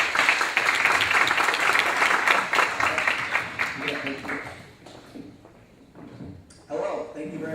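Audience applause at a community meeting as a guest speaker is welcomed, steady dense clapping for about four seconds that thins out and then briefly swells again near the end.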